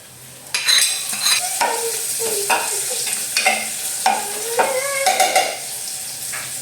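Sardines and onion sauté in a hot pan, with a loud continuous sizzle and repeated spatula scrapes and clanks against the metal as they are stirred close by.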